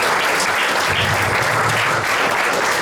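Sustained audience applause at a Tamil praise and worship gathering, a dense, steady wash of many hands clapping close by that holds evenly throughout with no talking.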